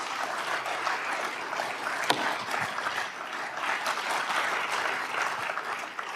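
A church congregation applauds during a Tagalog sermon, a steady, dense wash of clapping from many hands that holds at an even level throughout, with no voices rising above it.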